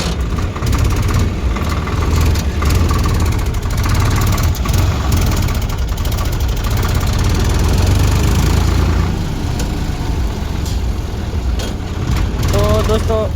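A tractor with a learner driver runs continuously in a deep, rough diesel rumble with knocking, shifting gears while moving, as voices speak over it.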